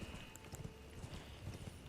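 Horse hooves clip-clopping in Elden Ring, a steady soft patter of hoofbeats at low level, mixed with faint game ambience and no talk.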